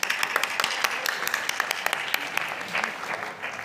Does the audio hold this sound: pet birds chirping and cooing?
no